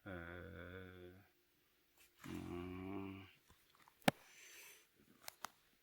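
A white dog inside a small hobby model shop in a residential area gives two drawn-out whining, growly vocal sounds, each about a second long. Faint clicks and brief knocks follow in a quiet room.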